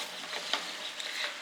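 Ghee sizzles steadily in a pan while ingredients for carrot halwa are stirred, with a soft scrape and a few crackling pops over the continuous frying hiss, close up and with no talking.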